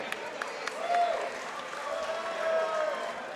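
A crowd at an MMA event applauds fighter Carli Lombardo, a moderate, steady clapping swell with cheers mixed in and some talk underneath.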